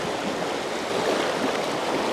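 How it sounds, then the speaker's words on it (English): Fast-flowing water on the River Nore rushes in a steady, close broadband wash with no break, alone and without voices. "Lovely fast streamy water."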